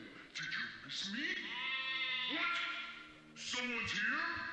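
Several sheep bleats from the MS-DOS game Wishbone and the Amazing Odyssey overlap in quick succession, wavering and nasal, loud and close against a quiet background.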